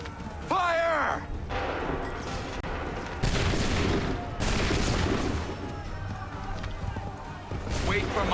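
Musket volley from a line of soldiers in Assassin's Creed 3, loud repeated bursts of gunfire, with a shouted command and other voices around the shots.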